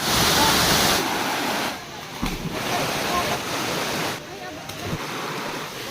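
Gabur-Gabur Falls in Peña Blanca, Cagayan, roars as a loud, steady broadband rush of falling water close to the listener, with no voices over it.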